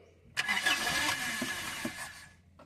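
A Toyota Tamaraw FX engine with a clogged carburetor cranks and catches, a loud rough mechanical roar that holds steady for about two seconds before dropping away.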